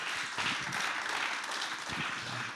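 Audience clapping at an awards evening as a winner is honored, steady moderate applause throughout the short stretch with no break.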